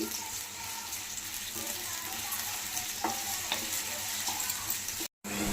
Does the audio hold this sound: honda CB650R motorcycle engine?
no